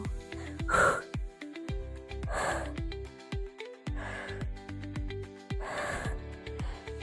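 Heavy, rhythmic breathing from a home HIIT and Pilates workout: sharp, loud gasping inhales and snorting exhales repeat every second or so over steady background music.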